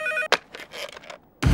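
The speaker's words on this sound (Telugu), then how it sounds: "ఇదేంటి ఫోన్ రింగ్ సౌండ్ వస్తుంది?" A telephone rings with a bright electronic ringtone, a short burst at the start and again at the end, with quieter muffled sounds in between and no one talking over it.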